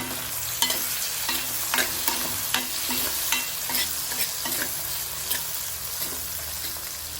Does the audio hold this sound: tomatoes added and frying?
yes